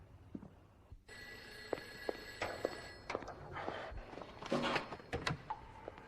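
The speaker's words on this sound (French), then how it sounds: "J'étais en train de préparer un corps quand le téléphone a sonné" A telephone rings after a quiet, faint start, in repeated bursts of a bright metallic bell, with scattered footsteps and soft movement around it in a quiet room.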